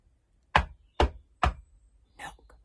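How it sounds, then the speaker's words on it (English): Three sharp, evenly spaced knocks land close and loud on a door, followed by a softer fourth knock, with silence around them. "The noise came out of nowhere, an imperious ringing knock"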